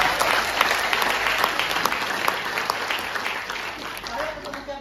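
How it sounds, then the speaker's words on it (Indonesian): An audience at a property sales talk gives lively, sustained applause, a thick wash of many hands clapping with crowd noise, and a voice speaking over it as it slowly eases off. "Boleh kasih tepuk tangan nggak buat saya?"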